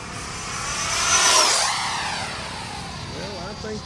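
A Freewing JAS-39 Gripen 80mm EDF model jet makes a low pass at half throttle, its whining ducted-fan roar swelling and sweeping down in pitch as it flies by, with people talking faintly afterward.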